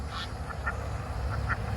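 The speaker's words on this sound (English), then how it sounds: "I think the baby ducks finally are in the pond" Baby ducks quacking at a pond, a few short, faint peeping quacks scattered over a steady low outdoor background, heard from some distance.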